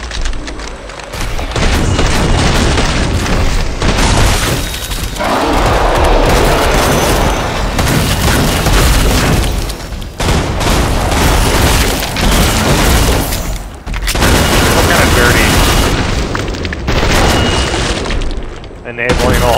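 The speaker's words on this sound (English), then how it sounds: "I threw a nail bomb going in deep" Explosions from a nail bomb in the video game Killing Floor 2 come as repeated heavy booms and rattling gunfire in a loud, dense game battle, with players talking over the din.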